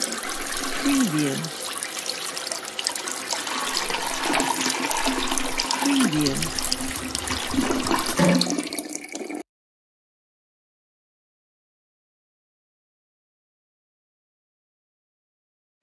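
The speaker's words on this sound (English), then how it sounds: "I came back in from flushing the poop down the toilet and washing my hands." A toilet flushes with a rushing, swirling gush of water, followed by running water as hands are washed at a sink, steady and fairly close, ending abruptly.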